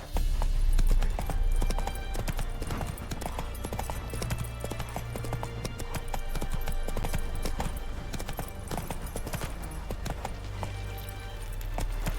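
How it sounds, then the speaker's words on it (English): Horse hooves clip-clop at a steady gallop rhythm through the open world of the video game The Witcher 3, loud and continuous over ambient game sound, with a brief neigh-like tone. "Giddy up."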